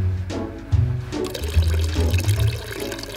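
Heavy rushing water at Niagara Falls roars close and loud in a continuous, churning wash that swells and dips slightly over a few seconds, with no voices.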